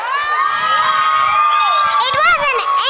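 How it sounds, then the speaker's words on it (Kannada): A crowd at a kids' graduation day erupts in high-pitched shouting and cheering, loud and sustained, children's voices whooping over the din. "ಬರಲಿ ಜೋರಾಗಿ ಚಪ್ಪಾಳೆ."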